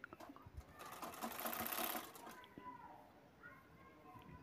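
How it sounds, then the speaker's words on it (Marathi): A sewing machine runs a seam along the side of a handmade bag, whirring close and steady for about a second before stopping, followed by softer mechanical handling sounds and a quiet voice. "आता बॅग उलटवून आपल्याला साईडला शिलाई घ्यायची आहे।"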